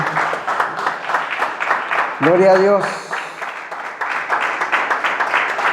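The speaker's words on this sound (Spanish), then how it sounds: "denle un fuerte aplauso al Señor" A church congregation claps together in a rhythmic, fairly close round of applause; partway through, a voice briefly speaks and sustains a tone over the clapping.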